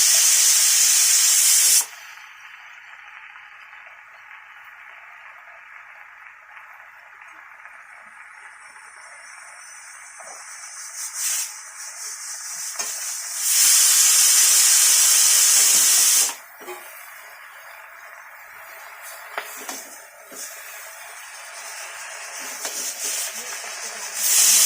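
Malabar spinach leaves are added to a hot pan with the cooked stalks and sizzle in bursts of loud, bright hissing steam, easing to a softer crackle between surges.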